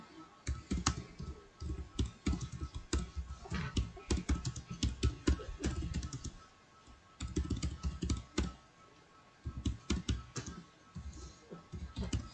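Computer keyboard typing as a school name is entered, with fast, dense clicking that runs almost continuously and has a couple of short pauses, up close and without voices.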